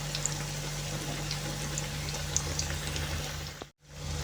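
Khmyz dough pastries fry in hot oil, giving a continuous, even sizzle with a low steady hum underneath, which drops out abruptly in a brief gap near the end.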